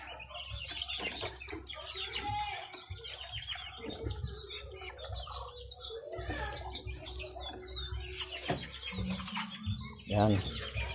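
Two pigeon nestlings give faint, quick peeping chirps while being fed at night, soft and close against a low background hum, with occasional rustling and a louder squeak near the end.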